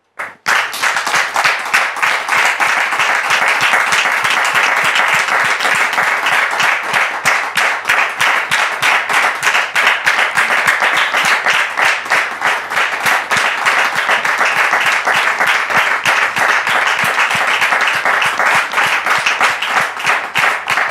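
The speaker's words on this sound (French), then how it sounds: "je voudrais vous demander ici et maintenant de recevoir les invités d'Annick sous vos applaudissements" A television studio audience applauds to welcome guests onto a talk show set, dense sustained clapping from many hands that starts abruptly and holds loud and steady throughout.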